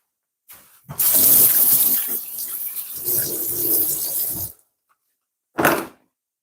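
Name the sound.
washing hands under running tap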